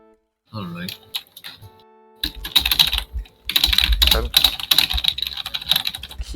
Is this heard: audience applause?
no